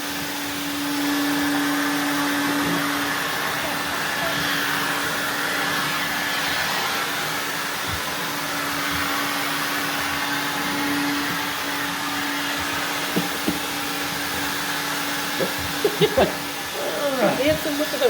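Prolux CTX canister vacuum cleaner with straight suction nozzle and turbo tool cleaning linoleum and a couch, a steady close whining motor drone held throughout, with a few bumps and clatters near the end.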